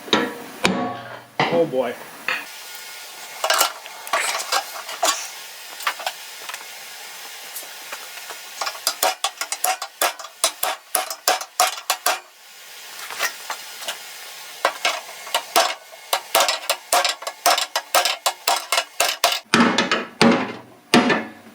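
Sharp metallic bangs ring out in irregular clusters, ball peen hammer blows striking a snowblower's metal up close, with scraping in between and a brief spoken exclamation.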